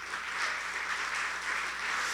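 Steady applause from a church congregation, an even wash of many hands clapping at moderate distance, continuous and unbroken with no talk over it.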